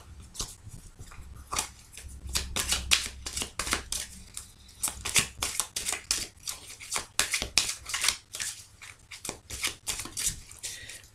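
A deck of tarot cards being cut and handled, giving a rapid run of crisp papery snaps and flicks close up, uneven in rhythm, with no talk.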